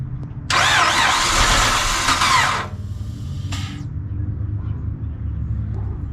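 A junkyard Chrysler 300 3.5 litre engine cranks hard in one long, loud starter burst of about two seconds without catching, followed by a second brief crank attempt over a low background hum.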